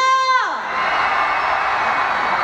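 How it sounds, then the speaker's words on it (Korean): The right-side audience at an outdoor concert at the Daejeon 0 o'clock Festival roars and cheers in a sustained, loud crowd shout. It rises right after a sung voice cuts off. "오른쪽부터 함성 테스트 한번 해봐도 되나요?"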